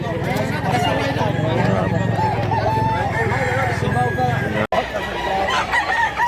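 A rooster crows in a drawn-out, repeated call at a Cebuano chicken seller's, loud and close, with people talking nearby and a brief break near the end.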